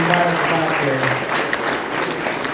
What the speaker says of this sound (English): Round of applause, thank you from the audience.